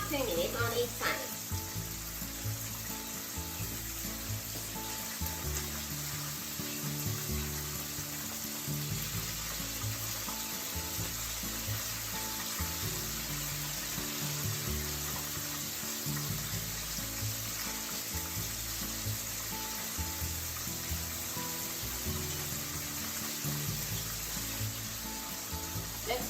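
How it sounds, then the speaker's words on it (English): Chicken isobe age fries in a pan with a steady, close hiss and crackle of oil that holds evenly for nearly half a minute, with faint clatter in the background. "And fry them for about 2 minutes on each side."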